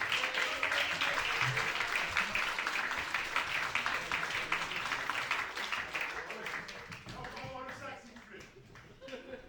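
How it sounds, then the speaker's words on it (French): Applause and clapping from a stand-up comedy audience in Dijon. It is a dense, steady wash of clapping that gradually thins and fades near the end, with some crowd voices mixed in. "Du bruit, s'il vous plaît, pour Rachid, s'il vous plaît."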